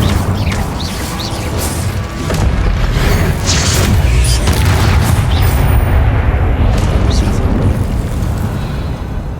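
Incendio fire spell in Hogwarts Legacy, a loud roaring blast of booming fiery bursts that swells and rumbles continuously, with game voices faintly beneath.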